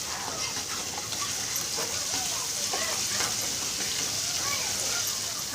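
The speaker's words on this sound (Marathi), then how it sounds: "मस्त तेल सुटेपर्यंत भाजू" Chicken masala with red chilli powder and garam masala roasting in oil in a pan, giving a steady close sizzle and crackle throughout, with faint background sounds.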